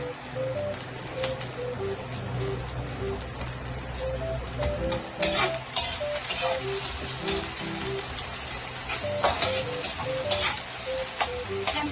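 Onion and garlic sautéing in a pan for a Thai-style chicken pastil, a steady close sizzle and crackle of frying that runs throughout with no talk.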